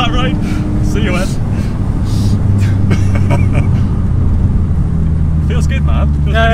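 Alfa Romeo 147 GTA with its Busso V6 engine, heard from inside while driving: a loud, continuous engine drone and road noise, rising and falling in pitch, with people talking over it.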